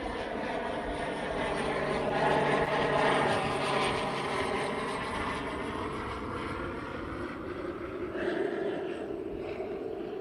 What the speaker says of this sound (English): This is a beautiful plane.